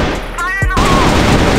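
Gunfire in a Counter-Strike-style shooter match: a short burst of sharp, close shots that ends in a loud sustained crackle, with a brief tonal game sound and some voice chatter underneath.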